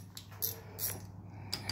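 Quiet metallic clicks and ratcheting taps as a spanner works loose the side plate bolts on a Peerless 1000 gearbox, a few close sharp ticks over a low steady hum.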